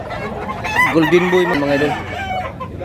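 Gamefarm bullstag roosters cluck and crow up close in a continuous, overlapping run, with someone talking over the birds throughout.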